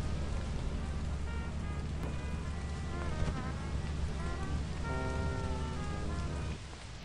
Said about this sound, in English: I bet the inside's gonna be rainy, too.